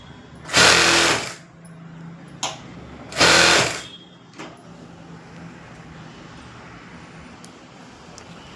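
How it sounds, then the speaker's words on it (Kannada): Sewing machine stitching the margin of a blouse, with two loud, close bursts of rapid stitching about two seconds apart, followed by faint handling noises. "2 ಇಂಚ್ ಮಾರ್ಜಿನ್ ಏನು ಬಿಟ್ಟಿರ್ತೀನೋ ಅದಕ್ಕೆ ನಾನು ಸ್ಟಿಚಿಂಗ್ ಹಾಕ್ಕೊಳೋದು."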